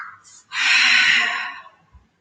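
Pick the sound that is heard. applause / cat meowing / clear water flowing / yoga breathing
yoga breathing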